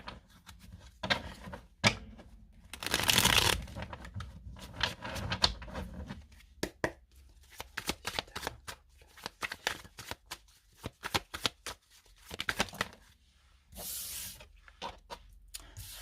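Oracle cards being shuffled by hand, repeated riffling bursts and soft flicks at close range, some long and some brief, separated by quiet pauses.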